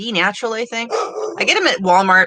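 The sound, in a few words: pit bull dog barking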